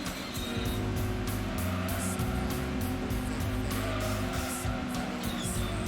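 A 197-horsepower Honda Integra races in Gran Turismo 2, its engine droning steadily at high revs with a pulsing, buzzy tone that holds nearly constant throughout, with no voices.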